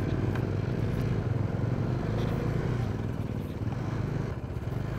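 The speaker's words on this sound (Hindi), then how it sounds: "बाइक पे बैठ गए, गियर अप हो चुके हैं एंड अब निकल रहे हैं भाई अपने घर की तरफ" Motorcycle engine running close by with a steady rumbling idle and throttle as riders set off from Mukteshwar toward home, continuous and fairly loud throughout.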